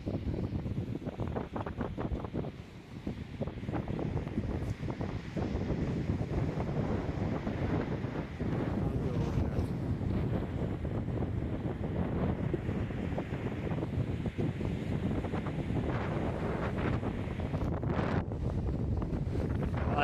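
Strong wind buffets the microphone at the seashore in Dwarka at sunset, a loud continuous roaring rumble with surf washing underneath, steady throughout with no speech.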